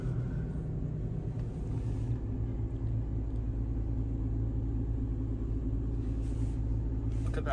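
A 2020 Toyota 4Runner TRD Pro engine starts and settles into a steady, loud low rumble that holds evenly throughout, with no one speaking.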